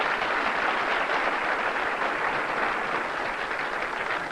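A large crowd at a 1990 professional bowling tournament in Pinole, California, claps and cheers in a dense, steady roar that holds at full strength from start to finish.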